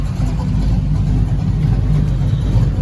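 A car engine fitted with an Edelbrock 650 AVS2 carburetor idling, a loud steady low rumble close by with a slight uneven pulse throughout.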